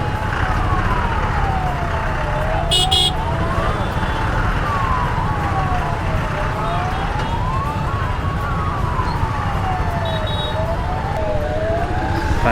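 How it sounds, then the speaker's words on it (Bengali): Ambulance sirens wail in a slow rising-and-falling cycle through a traffic jam, loud over a constant rumble of engines, with a short horn blast and faint voices in the mix. "অ্যাম্বুলেন্সগুলোকে সাইড দাও বন্ধু।"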